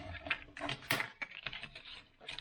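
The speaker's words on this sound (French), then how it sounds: "à l'aide de votre plioir, vous allez venir, donc vous pliez, vous marquez bien vos plis correctement" Thick Stampin' Up cardstock being creased and pressed flat with a bone folder, giving short dry scraping and tapping strokes in an irregular rhythm, close and fairly quiet.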